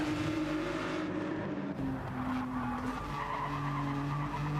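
An Adidas-sponsored Ferrari race car runs down the front straight at Fuji in a multi-class endurance racing video game, with a continuous loud engine drone, shifting tones and a tire-squeal edge.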